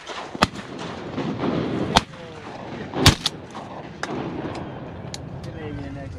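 Shotgun blasts ring out during a paddle-in public-land duck hunt in Louisiana, with several sharp loud reports at irregular intervals, one of them a closer, heavier boom, and voices can be heard talking between the shots.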